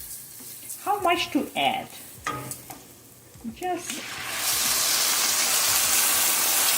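Pinot Grigio white wine poured into hot risotto rice sets off a loud, steady hiss and sizzle that swells and holds for the last few seconds, after a short stretch of talking.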